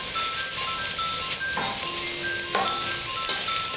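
Basmati rice fries in a pan with a loud, steady, close sizzle that holds throughout, punctuated by a few stirring bursts and thin tonal notes layered on top.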